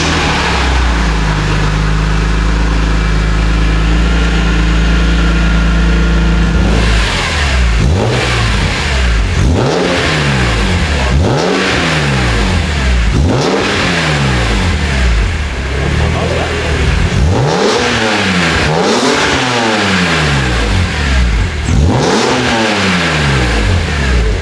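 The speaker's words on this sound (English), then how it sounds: "let's hear what the Scorpion exhaust sounds like now that the M3 is pretty much back together." A BMW E46 M3 with a Scorpion exhaust idles loudly, then goes through a series of sharp, close revs that rise and fall about six times in a row, each one swelling and dropping back.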